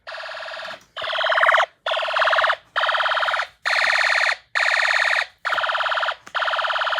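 A custom fire alarm horn blares in eight loud, evenly spaced blasts, each about half a second to a second long with brief silent gaps, close and alone with no talking.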